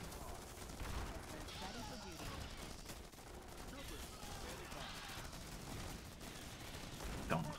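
Rapid gunfire and bursts of shooting at enemy bugs in the video game Starship Troopers Urban Onslaught, steady and dense throughout with a few louder shots, mixed under battle noise and occasional voices.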